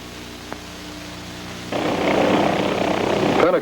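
An OH-6 helicopter is heard over a pinnacle or ridgeline, with a low engine hum that jumps to a loud rotor and turbine roar partway through, close by and steady.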